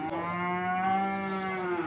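Calves at a crowded livestock market bellow in one long, loud, steady moo with a rich harmonic tone, held for about two seconds close by.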